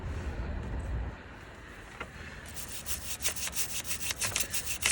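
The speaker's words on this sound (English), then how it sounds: "I'll use a wire brush, like a brass wire brush, just to polish it or clean it." Rapid back-and-forth scrubbing strokes of a brass wire brush on a Mazda Skyactiv exhaust camshaft, close and fairly loud, building into a steady rhythmic scratching after a quieter start.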